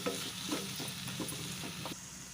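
Chili powder, salt, coriander powder and garam masala being stirred into a sizzling pan for stuffed eggplant curry, a spoon scraping in a rhythm of soft strokes over a steady close frying hiss.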